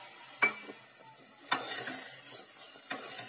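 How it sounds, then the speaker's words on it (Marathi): A spoon stirs a thick puran mixture of cooked lentils and cardamom powder in a pan, with three distinct scraping strokes against the metal over a soft sizzle, close and fairly quiet, without voices. "सगळं मी आता एकजीव करून घेते, वेलची पावडर टाकली म्हणून"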